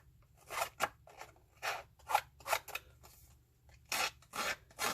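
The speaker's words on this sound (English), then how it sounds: "If you're using scissors, especially like these Honeybee precision scissors, be very careful." Honeybee precision scissors snip and rasp against paper in short, irregular strokes, close and quiet, with brief pauses between cuts.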